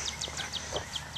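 Birds chirp outdoors in a quiet setting, giving a quick, evenly spaced run of about seven high, bright chirps over a soft background hush.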